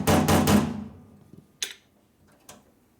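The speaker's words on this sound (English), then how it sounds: "That's what they make hammers for" A hammer striking an air line fitting in a workshop: a quick run of loud metallic blows followed by two sharper, isolated strikes spaced apart, with no talk.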